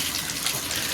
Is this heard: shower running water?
yes